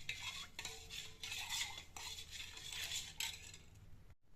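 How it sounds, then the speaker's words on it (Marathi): Spiced buttermilk (mattha) stirred with crushed mint, a spoon swishing and clinking against the vessel in quick repeated strokes, close and soft, no talking. "हलवून घेऊया."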